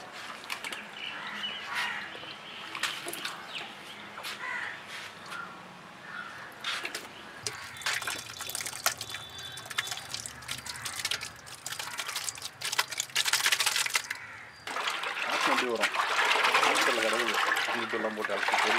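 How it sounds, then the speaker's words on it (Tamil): Water is poured over cleaned raw prawns to wash them in a kitchen, giving splashing and trickling that builds louder toward the end. "மறுபடியும் ஒரு வாட்டி இப்போ நம்ம வந்து தண்ணி ஊற்றி வாஷ் பண்ண போகிறோம்"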